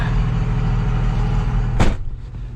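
A 1998 Dodge 2500 pickup's 5.9 Cummins diesel engine rumbles loudly at idle with a deep steady drone, then a sharp clack and a brief drop in the noise.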